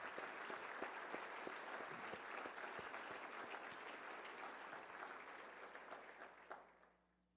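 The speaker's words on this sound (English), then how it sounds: "I ask you to join me in a round of applause for these men and women" Applause from gala guests honouring the staff at the 2011 Mitchell Institute Gala, a dense, steady round of clapping that fades out over the final second.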